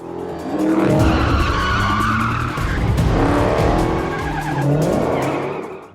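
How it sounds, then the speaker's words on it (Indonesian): Car chase in a film scene with a garbage truck fleeing, tires skidding and squealing loudly over roaring engines, several long screeches overlapping in a dense, continuous burst with no talking. "Dusty kabur menggunakan mobil pengangkut sampah. Aksi kejar-kejaran pun terjadi."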